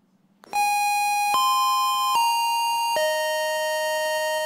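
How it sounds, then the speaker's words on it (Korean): Bright bell strikes ring out four times at steady intervals, each tone sustaining and blending into the next, loud and clear with no talk over them. "다른 종이 울리고 있습니다."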